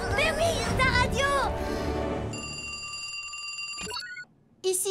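An emergency radio rings in a cartoon: a bright electronic ringing tone, repeated and then broken off, begins after excited cartoon voices talk over a fire emergency, with a short silence and one last burst at the end.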